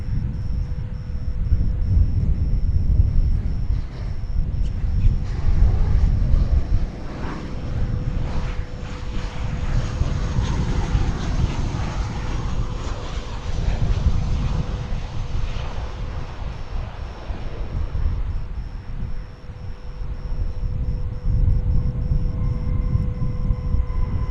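An airliner arriving from Boise at Dallas Fort Worth Airport, a deep continuous jet rumble with a faint steady whine above it, swelling and easing slightly as the plane passes at a distance.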